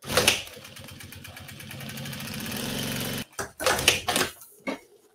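A sewing machine runs a straight seam at stitch length 3.5 while a zippered pouch with a clear plastic window is sewn, giving a steady close mechanical whir for about three seconds, then a few shorter bursts of stitching.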